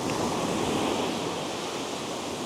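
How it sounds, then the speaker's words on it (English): Atlantic Ocean surf near Coney Island rolls onto the beach as a broad, continuous roar of crashing waves, fairly loud and steady, with wind mixed in. "This is the Atlantic Ocean."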